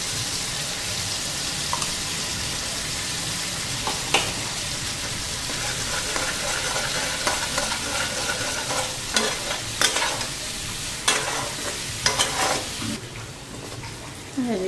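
Spice paste sizzles and fries in a pan for a dish of dried hilsa fish heads, with steady scraping stirs and clinks throughout and occasional sharper utensil knocks near the end.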